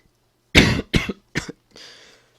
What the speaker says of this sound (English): Still got a really little tickly cough, which is infuriating.